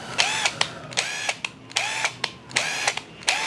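A DCA ADPL02-8 12V cordless impact driver runs in reverse in short repeated bursts, each a close, sharp whirring whine that starts and stops in a quick, even rhythm, with no talking.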